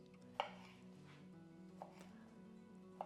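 Knife cutting cherry tomatoes on a board while preparing a Mediterranean quinoa salad: three sharp, quiet cuts spaced well apart over a low, steady kitchen hum.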